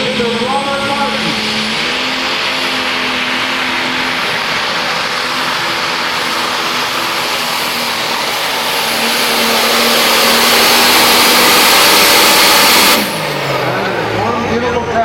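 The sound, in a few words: super/pro stock pulling tractor engine revving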